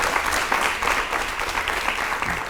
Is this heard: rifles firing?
no